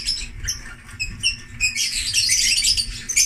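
Pet birds bathe in water, giving off rapid high chirps and squeaks, then a brighter rush of fluttering and splashing. Everything is close and moderately loud, with no talking.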